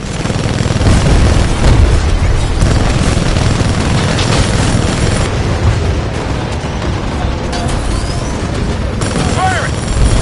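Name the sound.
weapons firing and explosions in Titanfall 2 video game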